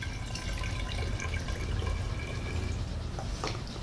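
Tea pours through a funnel into a bottle, a steady low trickling and gurgling of liquid that continues evenly throughout, close and soft.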